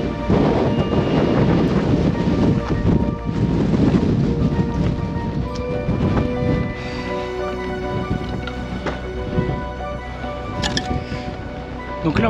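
Strong wind blowing around an abandoned cabin with broken windows overlooking a desert beach, a loud steady roar buffeting the microphone, easing slightly halfway through, with a voice briefly heard.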